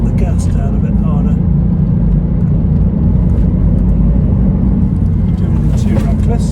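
A vehicle accelerates hard on the Tail of the Dragon road, its engine roaring loudly and steadily the whole time with a heavy low rumble.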